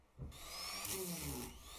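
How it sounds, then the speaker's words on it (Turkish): A die grinder fitted with a spiral sanding band grooves a knife handle, giving a brief, faint, high-pitched whine as the band cuts into the handle. "Bunun için kalıpçı motorumu kullanıyorum."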